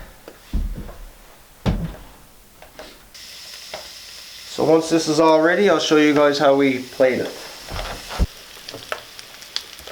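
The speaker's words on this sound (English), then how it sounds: "Scrunchions are cooking nicely." Scrunchions (pork fat pieces) fry in a pan in a log cabin kitchen, with a continuous crackling sizzle beneath someone talking and a few sharp clatters of utensils.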